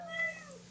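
A single short cat meow sounds close by while hungry cats are being fed, a quiet, clear mew lasting under a second.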